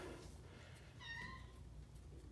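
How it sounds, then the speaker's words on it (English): A single short cat meow sounds faintly over a low background rumble. "Cat."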